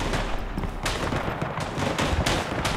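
Sustained machine gun fire in the World War I video game Tannenberg, set in Poland, a continuous rumbling rattle of distant, overlapping shots with a few louder cracks standing out.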